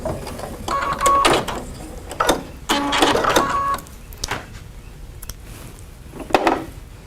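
A sewing machine stitches a quarter-inch seam in short bursts of mechanical whirring with clicky stitching, pausing and restarting several times close by.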